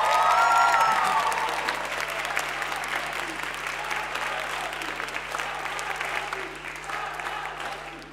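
An audience at a young talent showcase applauds for the stage crew, loud at first and easing slightly, with steady clapping and faint voices mixed underneath.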